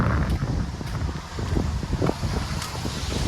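Strong storm wind buffets the microphone at Porbandar Chowpatty seashore, a constant rough rumble with gusty swells and surf noise beneath, no voices heard.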